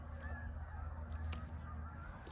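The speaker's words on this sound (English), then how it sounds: "Oh, you guys hear the geese?" Geese on a lake honk repeatedly in the distance, a loose chorus of calls over a steady low rumble.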